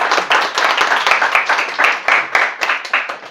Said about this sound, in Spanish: Dejo la palabra a Gaia y recibámosla con un aplauso.